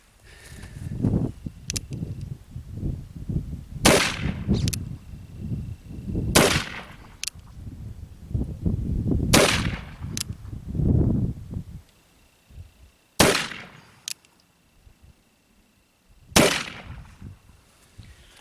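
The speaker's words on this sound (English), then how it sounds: "let me get these last 5 shots off" Five sharp shots from an 1862 Pocket Police revolver fired outdoors, irregularly spaced, with rustling and handling noise between them.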